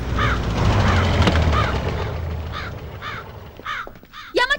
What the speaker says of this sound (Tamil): படுற காக்கா கீழ வருது